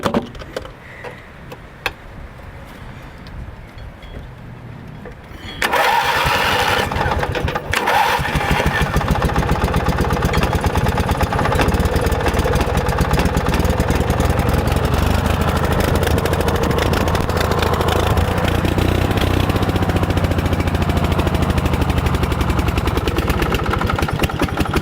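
A cheap secondhand lawn mower set up as a rally mower sputters quietly, then catches at about six seconds and roars loud and close, its small engine running rough and uneven at throttle for the rest of the stretch.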